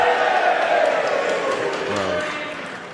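Snooker crowd at a Shoot Out match reacting to a badly missed positional shot, a loud close murmur and groan that swells early then slowly fades over a few seconds.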